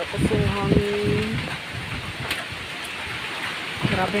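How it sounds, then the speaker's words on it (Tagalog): Steady rain on a farm hisses across surfaces, with a few brief spoken words at the start and end. "Ulan na."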